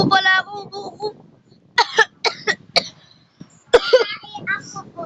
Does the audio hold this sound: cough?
yes